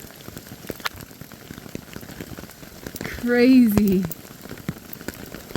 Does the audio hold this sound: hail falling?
yes